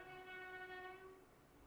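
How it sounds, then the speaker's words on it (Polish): A train horn sounds in a steady sustained tone for about a second before fading, then the rumble of the passing train continues faintly underneath, heard from indoors at a distance. "Przepraszam, pociąg."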